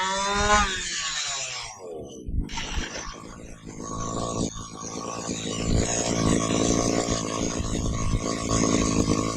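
Redcat Chimera gas-powered RC vehicle engine running during break-in: a small two-stroke engine revs in a rising buzzing whine, briefly cuts out, then settles into a loud, steady rattling idle nearby.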